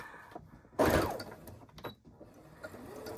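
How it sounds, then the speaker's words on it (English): A close domestic sewing machine with a microtex needle runs a short straight stitch through two-way stretch fabric: one loud whirring mechanical burst, then fainter clicks and clunks of the mechanism over a low background, with no talking. "So we'll just do a little straight stitch up and down"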